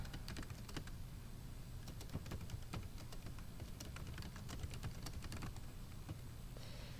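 Rapid typing on a computer keyboard fills the clip with a dense, steady stream of close, crisp key clicks over a low background hum, and no one speaks.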